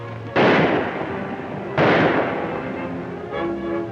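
Two loud gunshot blasts ring out about a second and a half apart in a western movie shootout, each booming with a long decaying echo, with a faint trailing sound after.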